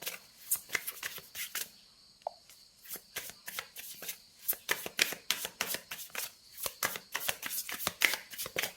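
A deck of tarot cards handled and shuffled during a pick-a-card reading: a long, close run of soft papery slaps and flicks in a quick, uneven rhythm, heard alone with no talking.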